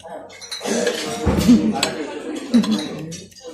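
A metal spoon clinks and scrapes against a plate while pressing down fried rice, a few sharp taps and scrapes close by, with people talking over it.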